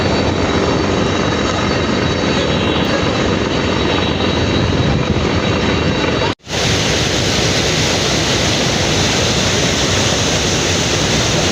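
A passenger launch ship on a river runs its engine at high RPM, producing a loud, dense, unbroken roar with rushing water noise. There is one brief dropout partway through.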